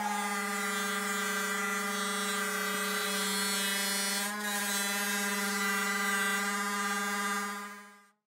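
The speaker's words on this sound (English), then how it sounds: "I took it to the polisher to give it a nice shine." An electric polishing machine buffs a metal sword blade, humming at a steady high-pitched buzz for several seconds, then winds down and stops.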